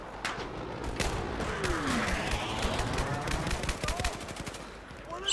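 Rapid bursts of gunfire in Battlefield 4 multiplayer crackle repeatedly over a busy, dense mix of game sounds, with a steady loud level throughout.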